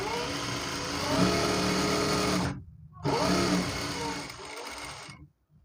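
An electric sewing machine stitches a gathered pant in two fast, whirring runs, broken by a short pause, then a quieter tail as the stitching slows and stops.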